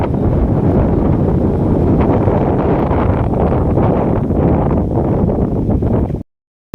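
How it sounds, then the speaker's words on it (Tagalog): Strong wind buffets the microphone in a loud, continuous roar, rumbling steadily before cutting off abruptly at the end. "Malakas ang hangin."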